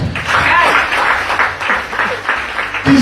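A church congregation breaks into loud, sustained applause that swells and ebbs for several seconds, with scattered cheers and a brief chuckle mixed into the clapping.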